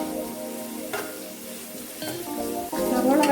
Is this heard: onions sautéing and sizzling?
yes